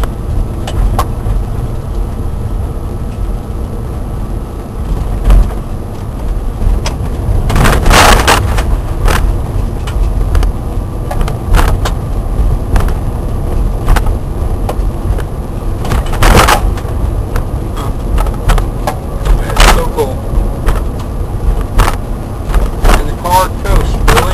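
An electric car on a homebuilt conversion with temporary battery boxes cruises steadily along a road, its drive and tire noise a constant low rumble with scattered bumps and rattles throughout.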